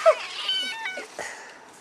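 A cat gives a couple of close, drawn-out meows with wavering pitch, loud and clear with no talking.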